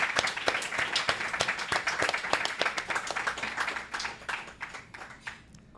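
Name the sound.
audience applause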